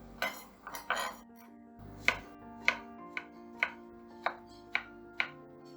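Knife chopping courgette (zucchini) on a board to prepare a vegetable court-bouillon with leek, about a dozen crisp, evenly spaced chops close by, with a few quicker strokes at first and no talk.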